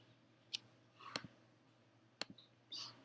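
A handful of crisp, quiet computer mouse clicks while selecting layers in Adobe Illustrator, spaced irregularly: one single, two quick pairs, then a softer rustle at the end.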